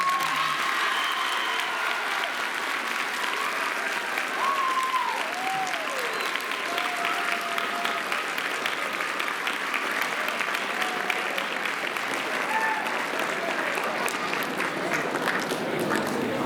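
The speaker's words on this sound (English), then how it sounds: "please, very loudly, give a very round of applause." A crowd applauds loudly during a university panel and student awards event, a steady wash of clapping that holds evenly for over fifteen seconds, with a few faint voices mixed in.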